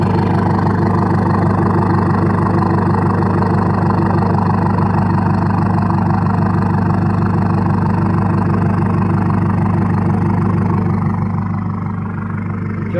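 A Ford Fiesta Mk6 diesel with an Airtec downpipe idles steadily up close, a loud, even low rumble with a faint turbo whine layered above and no speech.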